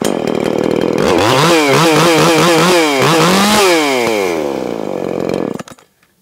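A stock Makita 6100 (Dolmar) chainsaw engine roars loud and close, revving up and down repeatedly before cutting off abruptly near the end.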